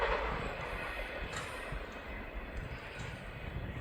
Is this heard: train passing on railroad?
yes